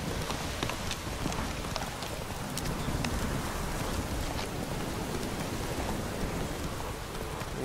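Steady, dense rainfall in the video game The Witcher 3, set in the stormy Velen region, a continuous hiss of drops on surfaces with no talk, holding even in loudness throughout.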